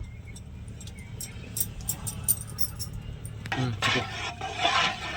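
Turmeric is mixed into tamarind water with a utensil, light scraping and clinking against the vessel that grows busier toward the end, close and without talk.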